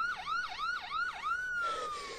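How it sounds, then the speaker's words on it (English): An ambulance siren is heard in the distance, yelping in quick rising-and-falling sweeps before shifting into a longer steady wail, moderately faint and with no talk. "She heard the ambulance coming in the distance and wondered for an instant who had called it."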